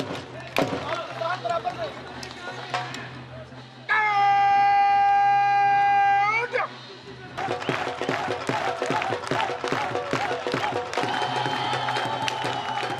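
Crowd applause at a border guard ceremony between Pakistan and India, as guards march in with crisp movements; rhythmic clapping and cheering under talk, broken by a long sustained horn or bugle-like tone midway.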